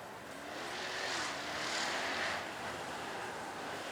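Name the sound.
supercharged Jaguar F-Type SVR engine driving past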